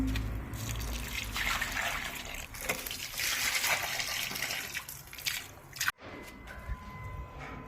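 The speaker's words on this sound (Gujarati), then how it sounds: "ગાલ ફટાફટા બધાને પાણી પાઈ દઉં" Water runs and splashes steadily for several seconds while watering dried-out plants, a continuous trickling spray that stops briefly with a sharp knock before resuming faintly.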